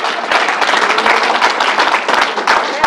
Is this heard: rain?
no